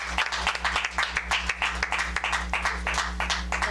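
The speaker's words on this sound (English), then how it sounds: "Please just give her a round of applause." Audience applause at a professionals' panel discussion event, a steady wash of many hands clapping at moderate volume for several seconds, with a low hum underneath.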